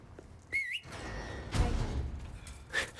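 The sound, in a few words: Leon whistling for Ashley in Resident Evil 4 Remake video game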